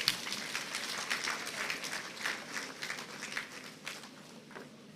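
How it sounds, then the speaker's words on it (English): Moderate applause from the audience at a national health council meeting in Ekiti, Nigeria: a steady, slightly distant patter of many hands clapping throughout, fading a little at the end. "Please, let's give her another round of applause."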